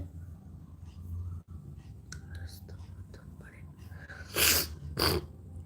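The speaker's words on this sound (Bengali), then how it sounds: "গলাটা খুশখুশ করছে তাই কাশিটা হচ্ছে" Two short, sharp coughs from an irritated, itchy throat come close together near the end, close and fairly loud against a quiet room with faint low murmuring beforehand.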